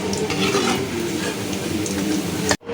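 Kebabs fry in hot oil with a dense, steady sizzle and crackle that fills the scene up close, then cut off abruptly at the end.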